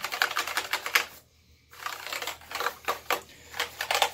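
Rapid clacking of keys on a Corsair, Microsoft or Logitech computer keyboard being cleaned, loud, close and uneven bursts of typing with a brief pause in the middle; the keys sound a little rough.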